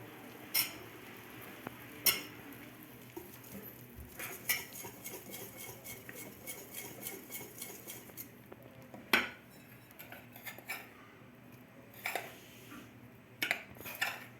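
A utensil scrapes and clinks against a bowl while mixing orange juice cake batter, giving steady close strokes with sharp metallic taps scattered throughout, with no voice.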